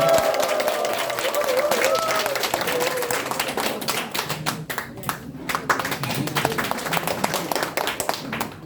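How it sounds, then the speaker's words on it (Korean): An audience at a Jayu Tongil Party press event in Gangseo welcomes the party leader with steady rhythmic clapping that thins into scattered claps, and a voice talks over the crowd. "여러분들 우리 당대표 고영일 변호사 그리고 강서구청장 후보 나오실 때 힘찬 박수로 환영해 주시기 바랍니다."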